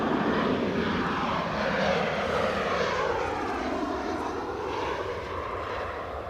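A Norwegian airliner at Edinburgh Airport passes with a strong, steady jet roar, its pitch sweeping downward as it goes by, heard alone at moderate distance.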